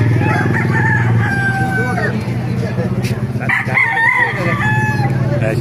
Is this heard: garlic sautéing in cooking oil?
no